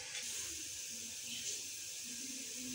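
Water being drained from boiled sweet vermicelli (seviyan) in a home kitchen, a soft steady hiss of pouring and running water, faint and continuous for a few seconds.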